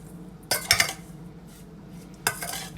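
A utensil stirs seasoned raw pork for a stir fry in a pan or bowl, giving a few short scraping clinks in two brief bursts with quiet gaps between.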